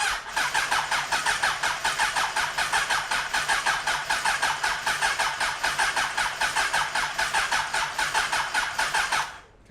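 Suzuki GSX-R 1100 drag bike engine running steadily and loud for nearly ten seconds with a dense, pulsing rasp that stays constant before cutting off at the end.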